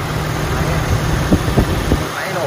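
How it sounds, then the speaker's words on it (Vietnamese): A 2011 Toyota Innova engine idles steadily at close range, a smooth even hum with a few soft knocks and clicks, no talking over it. "Máy nổ rất là êm và tròn tiếng này."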